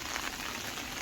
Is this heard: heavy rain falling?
yes